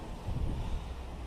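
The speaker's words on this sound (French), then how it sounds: "Aujourd'hui, il y a beaucoup de vent, donc ça perturbe un peu le jeu." Low, steady wind rumble buffeting the microphone, a continuous blustery roar with no voices.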